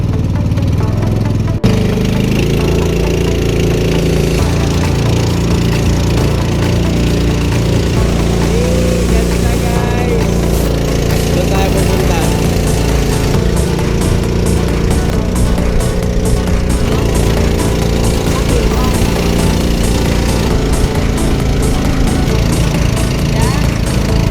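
A loud boat engine drones steadily and close for the whole stretch, a continuous mechanical hum with rapid knocking, while a voice talks faintly underneath.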